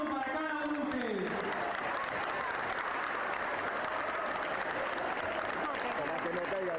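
A large audience applauds loudly at a public speech event in Argentina, a sustained, dense wash of clapping starting just after a voice and continuing strongly to the end.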